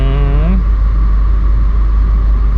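Subaru RA STI engine under boost, a loud steady low rumble of hard acceleration, with a brief rising whine at the start before the drone settles.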